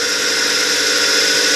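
A power drill whirs steadily while boring into a part during a diesel engine build, a loud, continuous, close-up drone with no talking.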